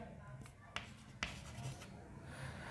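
A pen writes a maths formula on paper, with a few sharp strokes and scratches standing out close by over a low room hum.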